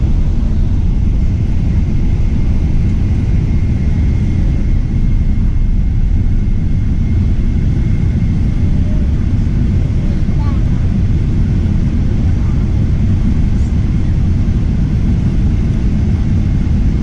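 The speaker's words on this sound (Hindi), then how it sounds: "जहाज़ इस वक्त यहाँ पहुँचा हुआ है।" Steady, loud low rumble of an airliner cabin after landing at Guangzhou airport, an unbroken engine and airframe drone with no distinct events throughout.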